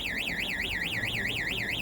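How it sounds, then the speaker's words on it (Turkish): An alarm sounds aboard the Bandırma ferry museum ship in Samsun after someone steps too far inside, a continuous warbling electronic tone rising and falling rapidly and evenly. "Bak bu çok fazla içeri girdin mi alarm çalıyor."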